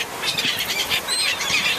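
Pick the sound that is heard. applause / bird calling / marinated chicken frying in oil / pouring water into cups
bird calling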